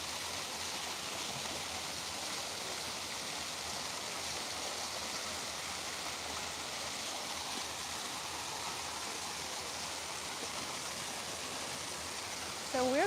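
Steady broadband rush of water along Batumi Boulevard by the sea, continuous and fairly loud, unchanging throughout with no clear voices over it.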